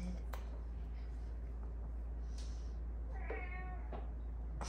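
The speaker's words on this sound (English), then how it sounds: "And you hear our kitty." A cat meows a few times nearby, short drawn-out cries over a steady low hum.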